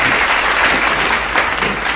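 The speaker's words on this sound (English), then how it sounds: "Big round of applause for" Loud, close crowd clapping fills a brief moment at a school quiz competition, a dense wash of hands honoring a contestant.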